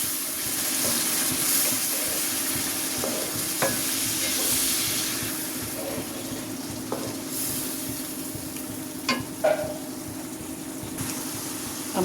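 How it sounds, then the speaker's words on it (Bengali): Spiced masala for shrimp do pyaza being stir-fried in a pan with a splash of water: a continuous close sizzle broken by intermittent scraping and tapping of a spoon against the pan, with no talking. "আমি আর একটু পানি দিয়ে আবার একটু কষিয়ে নিচ্ছি।"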